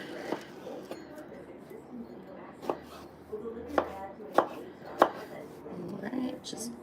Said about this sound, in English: just chopping up my peaches into little cubes